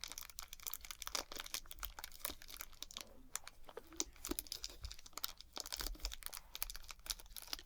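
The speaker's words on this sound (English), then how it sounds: "So this one came wrapped in a nice crinkly plastic bag." A crinkly plastic snack bag from a CheatPak snack box is handled up close, with steady rustling and crackling throughout and no voices.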